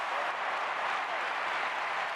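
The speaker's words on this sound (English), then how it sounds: "Quite rightly taking the applause of the fans." Steady crowd applause in a London 2012 Olympics video game, a dense wash of clapping from many hands that holds at an even level throughout with no voices standing out.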